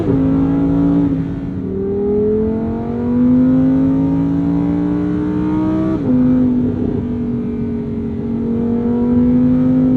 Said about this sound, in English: take it all the way out to red line. Hear the beautiful song of that V10